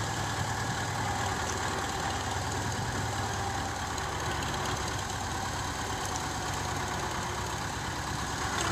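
Tractor engine idling on a farm in Pakistan, a steady, continuous mid-to-low mechanical drone with a faint knocking texture, fairly close and unchanging throughout, with no voices.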